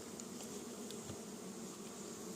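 A steady, soft buzz of many Carniolan honeybees humming together at a hive, continuous and unbroken, with no voices.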